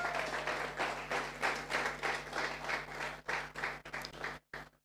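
Applause at a church conference rally rises over a low steady hum, a dense sustained wash of clapping that fades abruptly near the end.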